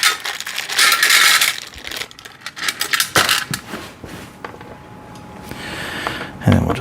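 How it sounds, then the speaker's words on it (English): Small metal screws from a rotating shoe rack kit drop into a magnetic tray in a series of close, bright clinks and rattles, with some handling clatter and a final thud. "I have a little magnetic tray that I'm going to utilize just to hold my screws all in one spot"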